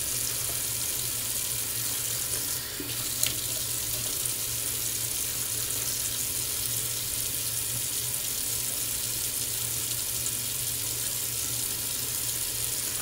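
Water runs steadily from a bathroom tap onto shaving soap, a constant hiss with a low hum underneath and one brief knock partway through, with no talking.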